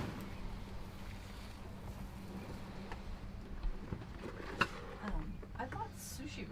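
A sailboat with a reefed sail beats close hauled through choppy wind chop at sea, giving a steady low rush of wind and water with occasional slaps and splashes against the hull.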